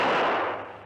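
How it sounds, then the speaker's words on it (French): Cannon fire during street fighting in Paris: a single heavy boom with a long rolling decay, loud and close. "des tirs de canon et une bataille de chars ont lieu en plein Paris"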